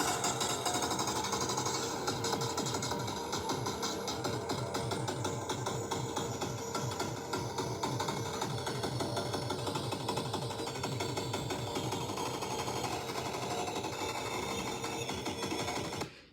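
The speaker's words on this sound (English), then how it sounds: "I took like the rest of part 15 and bit crushed it." A bit-crushed music track plays through its ending as a harsh, grainy, densely buzzing texture with a rapid mechanical stutter, loud and continuous before cutting off abruptly.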